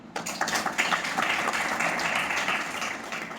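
Audience clapping inside a temple, the Shri Panch Krishna Mandir in Kathua, a dense steady patter of many hands sustained throughout at moderate volume with no voices.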